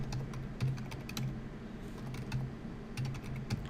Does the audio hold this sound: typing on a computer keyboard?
yes